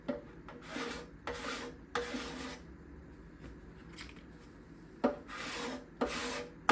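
A scraper drawn repeatedly along the back side of instrument bindings, giving short rasping strokes in uneven groups with quiet pauses between, close and alone.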